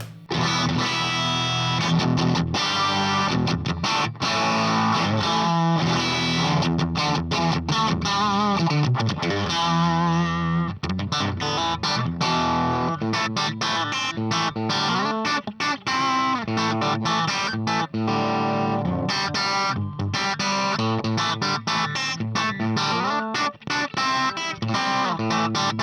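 A vintage Fender Stratocaster electric guitar played continuously through distortion and chorus effects, a loud, thick, wavering sound of strummed chords and riffs with no talking.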